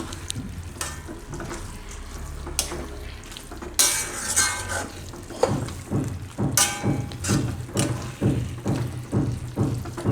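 Mawa with cashews and almonds being stirred in hot ghee in a pan for a Gujarati sweet: a low sizzle, then a spoon scraping and clinking against the pan in a regular rhythmic back-and-forth.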